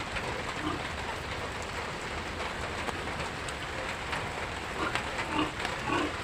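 Steady rain falls on a rural pig farm, a dense, even hiss of drops on surfaces with scattered louder patters near the end, no voices.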